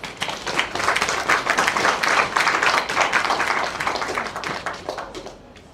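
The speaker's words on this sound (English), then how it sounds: "Let's be clapping." A lecture audience clapping together, dense and steady at close-to-moderate distance, rising quickly and holding for several seconds before tapering off at the end.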